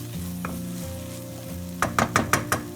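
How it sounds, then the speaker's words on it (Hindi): Onions lightly frying in a pan over a low flame for brinjal bharta, a steady soft sizzle with a low hum, then a quick run of five scraping stirs near the end. "जस्ट 1 मिनट थोड़ी देर के लिए इसके अंदर हल्का सा फ्राई कर लेना है इसको"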